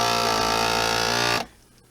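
A vacuum sealer machine draws the air out of a bag of vegetables, giving a loud, steady motor hum that runs continuously and then cuts off abruptly, leaving near silence.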